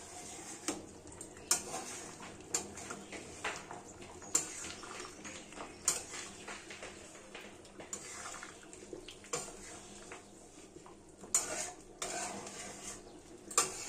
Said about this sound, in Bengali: ধনেপাতাটা সমস্ত কিছুর সাথে খুব ভালোভাবে মিলিয়ে মিশিয়ে নেব।